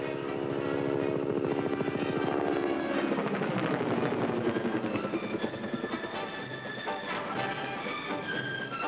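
Attack helicopters in flight during a military tactics demonstration, a steady loud rotor thump and turbine whine that shifts in pitch as the aircraft pass, with no voices.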